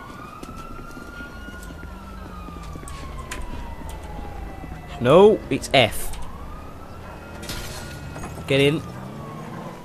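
Police and ambulance sirens wail in the GTA V video game, a continuous descending and rising tone under a voice, with a couple of short sharp bursts cutting through midway and near the end.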